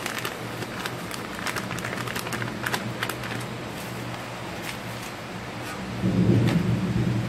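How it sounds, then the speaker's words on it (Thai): Steady rain patters across the whole stretch, and a low rumble of thunder rolls in near the end. "ฝนกำลังตกเนาะจ้ะ จะได้ยินเสียงฟ้าห้อง"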